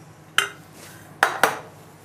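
Utensil clinks against a bowl while chocolate cake batter is mixed, three sharp knocks spaced irregularly between quieter stirring, close and alone.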